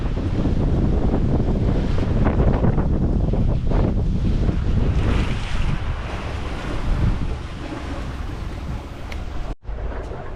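A sailboat under way on the open sea between Newport and Cabo, with steady loud wind buffeting the microphone and waves and water rushing along the hull throughout, briefly dropping out near the end.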